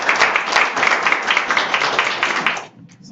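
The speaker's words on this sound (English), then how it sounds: "So let's give Coach another one round of applause" Audience applause for a coach rises in a room, a lively burst of many hands clapping close and loud, cutting off abruptly near the end.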